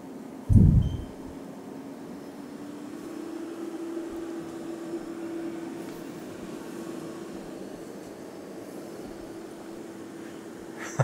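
Bora Puru and Novy Easy cooktop extractor hoods running at full power, a steady, even fan whoosh with a low hum, starting with a brief thump and holding constant throughout.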